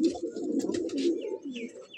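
Kaldama pigeons kept for breeding coo in low, rolling overlapping calls, with a few brief higher chirps near the end.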